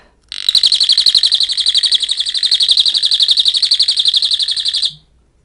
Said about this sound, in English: remove this, which you'll hear an alarm when I do that